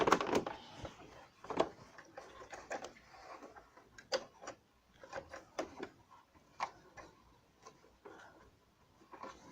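A sewing machine stitching fabric for a bunting garland, an uneven run of close mechanical ticks and clatter with short bursts and pauses, no voices.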